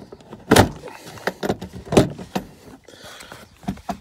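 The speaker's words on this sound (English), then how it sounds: "Now all you got to do is just pull it out and fold it under the bumper." A car's plastic inner fender on a 10th-generation Honda Civic is pulled out and folded under the bumper, making a series of irregular plastic thumps, scrapes and rustles close by, with no talking.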